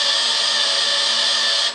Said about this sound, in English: So let's go to drill speed 1. We're high torque and we're gonna just shove that baby in.